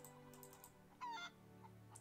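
A chicken in the online video game zOMG gives one short, faint cluck over a quiet, steady game background.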